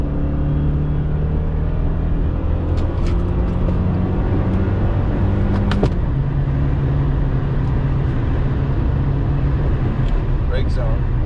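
A Toyota race car on the Thunderhill Raceway East circuit holds a loud, steady engine drone from inside the cabin, with a few brief higher squeals and clicks along the way.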